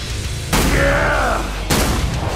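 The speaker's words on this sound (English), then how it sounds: "Precision shooting every time." Two loud, booming gunshots from Killing Floor 2, spaced about a second apart, each ringing out sharply up close while a whistling tone sweeps through between them.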